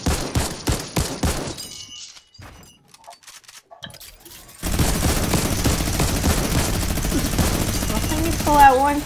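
Rapid bursts of heavy gunfire in the Fortnite video game, a fast rattling volley, then a pause with scattered clicks, then a dense sustained barrage, with a voice briefly heard at the end.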